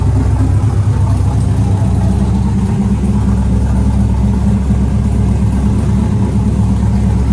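A Chevrolet Camaro engine idles steadily up close, a constant low rumble with a slight uneven lope that holds throughout with no voices.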